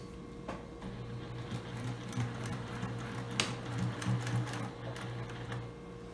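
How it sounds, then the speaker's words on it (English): A sewing machine stitching the ends of a homemade ring bag, a soft steady mechanical whir with a rapid needle rhythm in bursts, fairly quiet and close, no talking. "I finished sewing both ends here"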